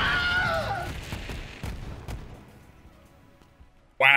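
An enemy blows up in the video game Borderlands 3: a loud blast with ringing, sizzling debris that fades over a few seconds, dotted with a few soft thumps, then a sudden sharp burst at the very end.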